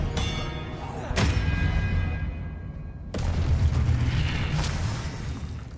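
Confringo explosive spell in Hogwarts Legacy, a sharp blast at about one second and a second booming impact near three seconds, each followed by a rumbling tail under continuous game background.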